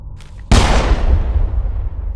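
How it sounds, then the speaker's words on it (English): A single loud, close weapon blast from a video game cracks after a brief quiet moment, followed by a long, rumbling, fading echo. "You can't go firing your weapon at everything that moves."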